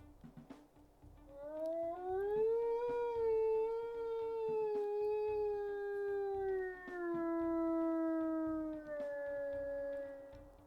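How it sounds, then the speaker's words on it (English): Wolf howls from a video game, one long deep howl rising and sustained, then a second, higher-pitched howl following close behind, loud and clear with no talk over them. "we'll go ahead and we'll listen to his howls"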